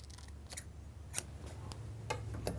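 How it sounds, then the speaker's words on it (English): Scissors snip through the feathers of an atlatl dart in a few crisp, separate cuts, each a short close-up click over a steady low background hum. "Turn the scissor in as you cut."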